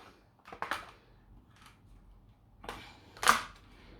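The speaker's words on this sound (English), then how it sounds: "you just like sort of pops it open and then gently go around it, loosening the clips" Back case of a Steam Deck being pried open, giving a few sharp plastic clip pops and clicks, spaced apart with quiet fiddling between them, close and fairly loud.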